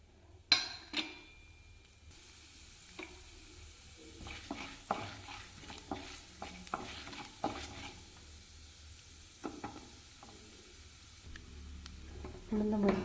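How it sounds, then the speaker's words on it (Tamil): Urad dal sizzles in hot sesame oil in a pan for ginger thokku, a soft, steady frying hiss broken by repeated clinks and scrapes of a stirring spoon. "எண்ணெய் சூடாகிடுச்சுங்க. உளுந்து பருப்பு சேர்த்துக்கிறேங்க."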